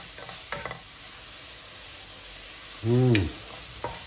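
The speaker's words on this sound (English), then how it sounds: "4 cloves of garlic chopped. We'll fry until it is fragrant." Chopped garlic sizzles in a pan over medium heat, a low steady frying hiss with a couple of soft stirring scrapes and one brief louder clatter near the end.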